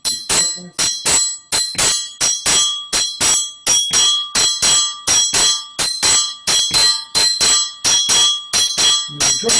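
A bright, ringing bell struck in a steady repeating six-count djembe accompaniment pattern, about two strikes per second, each hit decaying quickly, loud and close with no voices.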